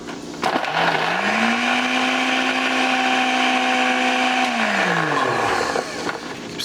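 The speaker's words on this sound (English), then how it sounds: "It's just this blender ain't got ice crush feature." A home blender whirs loudly through ice and water for a homemade slushie, motor pitch rising as it spins up, holding steady with a grinding rattle, then winding down near the end.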